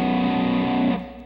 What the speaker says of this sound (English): this is an inversion of a power chord.